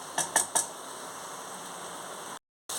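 Mushroom and capsicum fried rice stir-frying in a pan. Three quick metal clinks of a spatula open the sound, followed by a steady, soft sizzling hiss that drops out briefly near the end.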